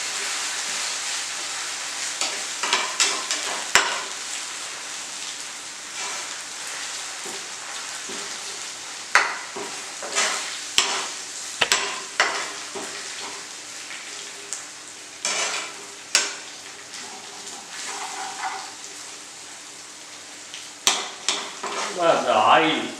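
Onion with ginger-garlic paste frying in hot oil in a pot while cooking biryani, a steady sizzle broken by repeated sharp scrapes and clanks of a spoon stirring against the pan.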